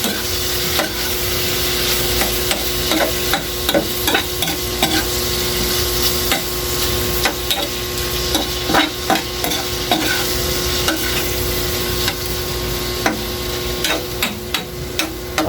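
Margarine melting and sizzling in a hot pan while a utensil stirs and scrapes, giving a steady loud crackle broken by repeated sharp metallic taps and clinks throughout.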